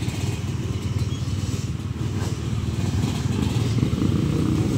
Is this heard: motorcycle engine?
yes